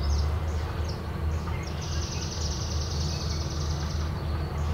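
A red-winged blackbird sings outdoors near a marsh, repeated high trilling calls rising over steady low background rumble and ambient noise, with other birds faint in the distance.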